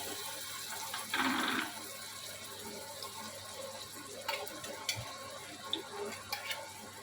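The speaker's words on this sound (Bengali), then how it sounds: "সেই রসুন আদা কুচিটা একটু দিয়ে দিলাম।" Chopped garlic and ginger drop into a little ghee for egg tadka, giving a brief louder burst of frying that settles into a soft, steady sizzle with faint scattered clicks, no voices.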